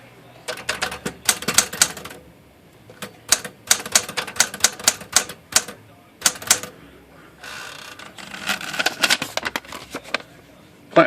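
Platen removal on a reconditioned Smith Corona script typewriter of the 1965–1980 design makes clusters of sharp mechanical clicks and ratcheting rattles, close and loud, in uneven bursts separated by brief pauses.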